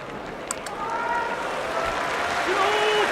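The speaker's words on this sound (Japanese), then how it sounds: "拍手が湧き上がります。" Sumo crowd applauding in the Fukuoka Kokusai Center arena, a steady broad wash of clapping that swells and holds through the clip, with a faint voice and some hall noise mixed in.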